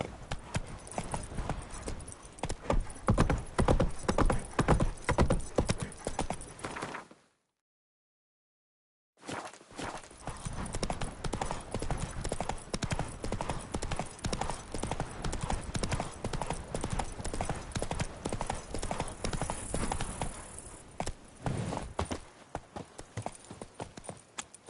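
Roach, the horse in The Witcher 3, gallops in a steady rapid clip-clop of hooves. The hoofbeats break off for about two seconds of silence, then resume and run on to the end.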